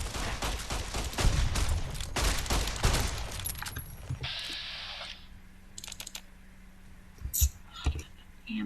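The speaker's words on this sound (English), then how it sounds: "I ran out of ammo because I was so busy shooting this one." Rapid bursts of gunfire from the video game Fallout: New Vegas crackle loudly through the first few seconds, then thin out to sparse shots and mechanical clicks.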